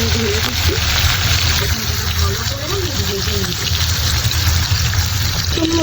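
Shrimp mixed with a little salt fry in hot oil, giving a steady, dense sizzle throughout while a person talks over it.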